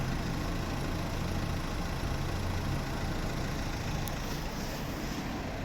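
A 2009 VW Touran 1.9 TDI diesel with automatic gearbox idles steadily, a constant low rumbling drone close by with no revving and no voices.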